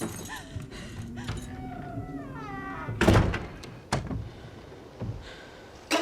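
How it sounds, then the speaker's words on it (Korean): A cat meows several times in drawn-out, wavering cries, followed by a few heavy thuds and knocks nearby. "곧이어 건너편 오두막에서 고양이의 울음소리가 들려오기 시작하고"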